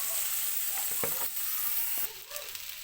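Boiled rice is stir-fried with vegetables in a hot pan, giving a steady soft sizzle with a few scraping stirs and light clinks, fairly quiet, with no one talking.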